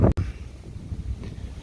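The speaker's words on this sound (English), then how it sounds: "Another windy day in the Bahamas." Wind buffeting a microphone aboard a boat moored in a Bahamas marina: a sharp gust burst and brief dropout at the start, then a low, uneven rumble of wind noise that keeps fluctuating, with no talking.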